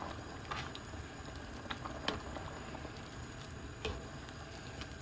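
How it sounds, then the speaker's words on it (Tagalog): Spinach soup simmering in a pot on a home stove, with a soft steady bubbling hiss and faint scattered pops and ticks, quiet and close, without talking. "Habang kumukulo siya, halo lang ng halo."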